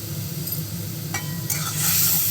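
Green chili paste, salt and ground pepper being stirred into a pabda fish curry in a pan, a steady low sizzle under soft scraping with a brief brighter clink and a rising hiss near the end.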